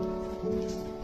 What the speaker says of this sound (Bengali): আর বাইরে ভীষণ জোরে বৃষ্টি হচ্ছিল, এখনো হচ্ছে।